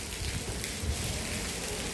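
Steady rain falling outdoors near Bulusan, Sorsogon, a continuous dense hiss of drops on surfaces, even and moderately loud with no voices.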